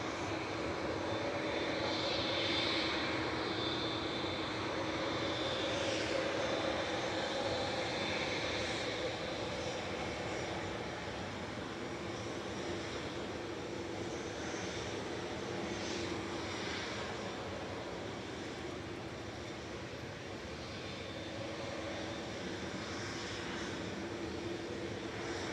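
An EasyJet jet lines up on the runway, its engines giving a steady, moderately distant whine and rumble that holds evenly throughout with no talking.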